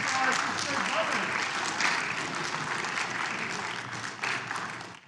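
An audience claps steadily for the sixth grade brothers, and the dense, sustained applause slowly thins out near the end.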